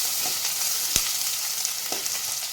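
Small onions sizzle steadily in a hot pan, a close bright frying hiss with occasional sharp ticks and light stirring scrapes, no voices.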